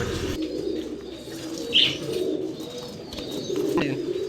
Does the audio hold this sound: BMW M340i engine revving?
no